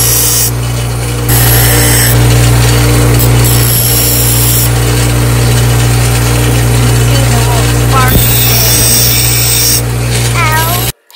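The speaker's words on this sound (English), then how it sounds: "we're here at the regular bench grinder. We're going to clean up these edges" Bench grinder deburring the edges of homemade metal flutter spoons, a loud steady motor hum with grinding hiss running the whole time, brief changes in pitch where metal touches the wheel.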